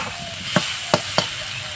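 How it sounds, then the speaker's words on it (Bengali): Potatoes frying in a pan for Bengali ghugni, a loud steady sizzle broken by three sharp scrapes of a spatula stirring, close and without talk. "এটা দিয়ে আমি আলুটা একটু কষিয়ে নিচ্ছি এইভাবে কষাতে কষাতে আলুটা কিন্তু সিদ্ধ হয়ে যাবে"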